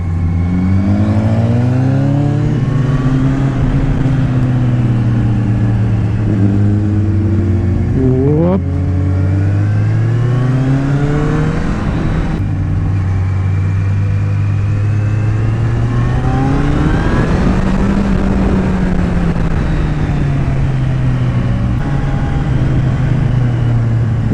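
A motorcycle laps a karting track during riding training, its engine loud and close throughout, revving up and down through repeated gear shifts and throttle changes with a near-constant roar.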